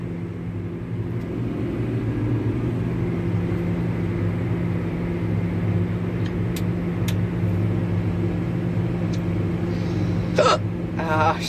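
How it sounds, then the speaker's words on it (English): Several short hiccups from a person sitting in a farm vehicle during a barley harvest with a Claas Dominator 106 combine, heard late in the clip over a loud, steady engine drone. "I've still got the blooming hiccups."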